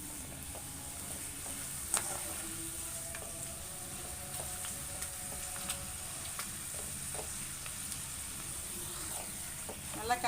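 Thin round slices of tapioca frying in hot oil as they are stirred, a steady soft sizzle with occasional sharp spatula taps against the pan, fairly faint and continuous.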